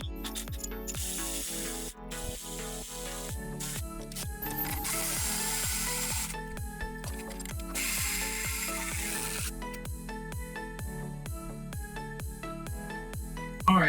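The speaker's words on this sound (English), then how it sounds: "Alright, now that everything's bolted up, we can tighten everything down." A hand ratchet tightens bolts on a rear air suspension bag kit fitted to a Dodge Ram 2500/3500 pickup, its pawl clicking loud and close in quick regular runs, broken by short steady hissing bursts.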